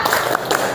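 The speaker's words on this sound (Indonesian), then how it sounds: "Tepuk semangat." A school class performs a spirit clap: a brief, loud, close burst of many hands striking together, lasting under a second.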